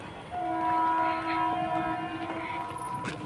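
A train pulling out of a station, its horn sounding a long steady tone over the rolling rumble of wagons, fairly loud and close for a few seconds with no voices.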